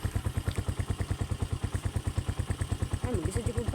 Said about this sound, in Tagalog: Nagpaandar naman siya sa iyang motor.